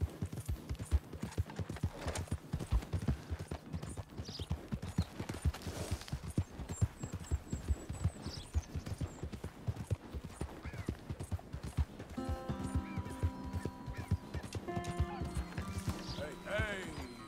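Horse hooves in Red Dead Redemption 2 clip-clop in a steady trotting rhythm throughout, moderately close, with someone speaking over them and game music rising near the end.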